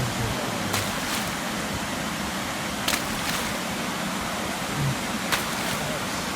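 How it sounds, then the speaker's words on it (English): A small waterfall at a wild animal park gives a steady, broad rush of falling water that fills the whole stretch, with a few brief louder splashes or knocks standing out now and then. "Now small waterfall."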